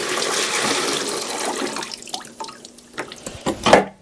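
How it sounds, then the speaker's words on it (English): Water pours and splashes out of a Kinetico Aquarius sediment filter housing into a sink, a steady gush for about two seconds that thins into scattered drips and small splashes. "And pour out the excess water."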